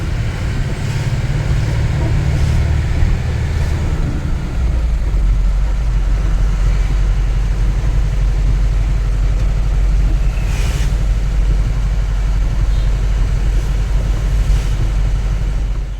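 A delivery vehicle drives along the Mumbai–Goa road, a constant loud low road and engine drone with wind rush, steady throughout with no talk.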